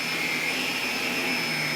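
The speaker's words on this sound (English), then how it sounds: "I probably shouldn't vacuum something like that, but let's give it a try." A Shark Pet Pro vacuum cleaner runs with a steady, high whining motor hum and constant airflow hiss, close and even throughout.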